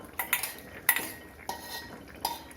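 Cooked toor dal goes into a pan of snake gourd with a spoon, a few sharp metal clinks and scrapes against the pan, close and fairly quiet, spaced irregularly with no talk.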